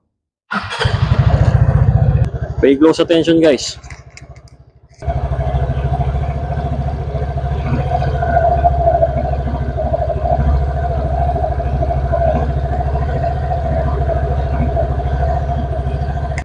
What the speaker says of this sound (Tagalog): Kung narinig nyo yung tikitikitik sound na yun sa unang start ng easy ride natin